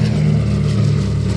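The radial engines of a DC-3 airliner drone loudly and steadily during the takeoff run, a close, low, pulsing roar with no talking.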